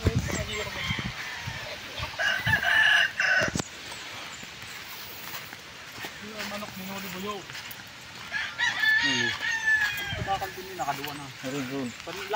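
Cockerels on their outdoor range crow and cluck in loud harmonic calls near and farther off, with someone talking over much of the scene.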